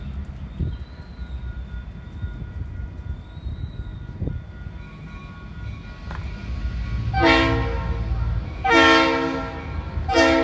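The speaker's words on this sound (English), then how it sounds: "I think we ought to run some trains around." A model train rumbles along its track with a steady low clatter, then two bright horn toots sound near the end, close by.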